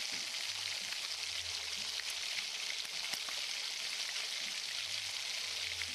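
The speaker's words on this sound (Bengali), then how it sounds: "ভালো করে মশলাটা এখন ভেজে নিতে হবে।" Onion and garlic paste frying in a pan for a Bengali mustard fish curry gives a steady, soft crackling sizzle that runs evenly throughout, with no voices.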